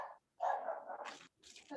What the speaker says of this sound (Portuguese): De algum aluno, cachorro.